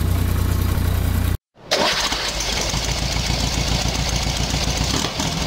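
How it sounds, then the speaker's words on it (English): A tractor engine cranks and catches after a short gap, then settles into a steady, chugging idle with a knocking low rumble, loud and close throughout. "Tractor."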